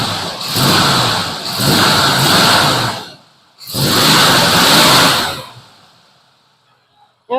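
A 1980s Chevrolet 305 V8 fitted in a 1968 Chevelle roars in two long revving bursts separated by a brief dip, then settles and fades to near quiet, loud and close.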